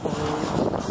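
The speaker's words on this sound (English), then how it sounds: "it's just a little windy" Wind gusts buffet the microphone in a steady low rumble, with no voices.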